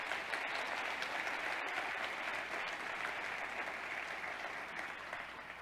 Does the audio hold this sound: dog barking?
no